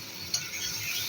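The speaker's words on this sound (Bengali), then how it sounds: "এখন মশলাটাকে ভালো করে কষিয়ে নেব যতক্ষণ না তেল ছেড়ে দেবে।" Cumin, ginger and onion paste stir-fried in oil, a soft steady sizzle with one brief clink of a utensil near the start.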